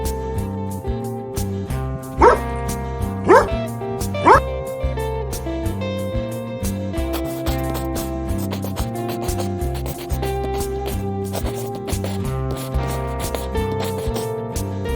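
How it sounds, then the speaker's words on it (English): A cartoon dog in a children's alphabet drawing lesson gives three short, bright barks about a second apart, set over steady, upbeat background music. "D for dog."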